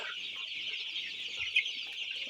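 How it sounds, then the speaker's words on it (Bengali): Sonali hybrid chickens clucking softly amid a steady high-pitched chorus of chick peeps from 24-day-old birds, a busy flock heard close up without any talking. "এগুলো হচ্ছে সোনালি মুরগি হাইব্রিড জাতের"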